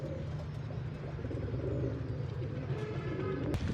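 Pigeons perched on a rooftop terrace in the evening give soft, low cooing against a quiet, hushed background with faint distant ambience.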